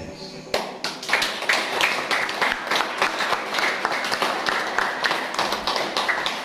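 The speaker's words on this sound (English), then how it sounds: "We clap our hands." An audience claps hands at a gathering, sharp individual claps building quickly into a lively, fairly close round of applause that continues steadily to the end.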